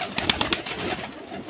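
A Cheena Sebe pigeon coos nearby, a brief burst of soft rolling calls with a few light clicks at the start, then fading.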